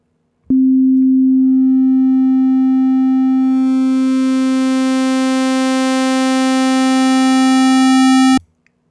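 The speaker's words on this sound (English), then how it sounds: "So we can morph between a sine wave, a triangle wave, a sawtooth, and a square wave." A Caustic 3 modular synth oscillator holds one steady low pitch while its waveform morphs from a pure sine toward brighter, buzzier triangle, sawtooth and square shapes, gaining harsh overtones before cutting off abruptly; loud, solo tone, no voices.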